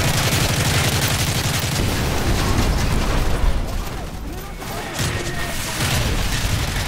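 Rapid gunfire from a Modern Warfare 3 campaign mission rattles in dense bursts with deep booming impacts, holding steady and loud throughout while a voice talks over the battle.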